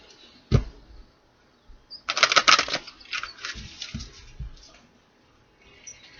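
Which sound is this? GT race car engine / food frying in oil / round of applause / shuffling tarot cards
shuffling tarot cards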